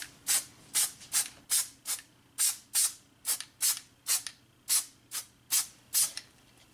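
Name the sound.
spray adhesive being sprayed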